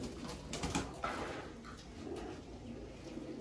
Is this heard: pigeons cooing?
yes